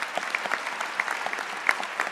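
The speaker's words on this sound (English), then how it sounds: "Give yourself a round of applause, please." Graduation audience giving the graduates a round of applause, a short burst of scattered, fairly close clapping with a few sharp claps standing out.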